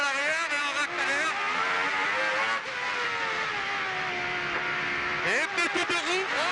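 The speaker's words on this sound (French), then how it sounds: "La voiture, les pneus bloquent un peu à l'arrière et on accélère." A Renault Espace F1 engine revs and accelerates loudly and continuously on track, its pitch climbing and shifting, with a sharp rev burst near the end.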